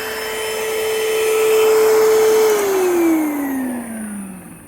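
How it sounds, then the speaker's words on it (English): A Panasonic Jet Flow handheld vacuum cleaner with a headlight whines steadily up close, then its motor pitch drops and fades as it is switched off and spins down. "I just picked up a Panasonic handheld vacuum"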